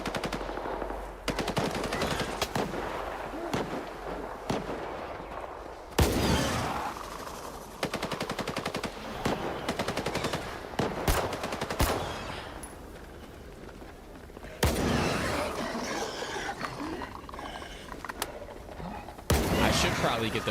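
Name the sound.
gunfire from bandits and snorks fighting in S.T.A.L.K.E.R. 2 video game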